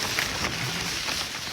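Steady rain patters down on a monsoon trekking trail, a dense even hiss close by that holds through without pause.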